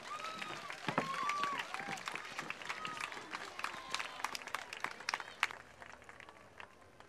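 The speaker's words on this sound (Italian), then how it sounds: "Un applauso" A crowd at an August summer dance-school recital in Punta Secca applauds a couple who danced a Viennese waltz. Dense, crackling clapping runs steadily and close, with whoops and whistles over it, then thins out near the end.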